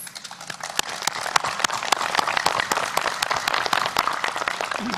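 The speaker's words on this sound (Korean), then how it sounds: "박수를 보냅니다" Sustained applause from a large crowd at the inter-Korean summit at Panmunjom, dense rapid clapping holding steady throughout at moderate loudness.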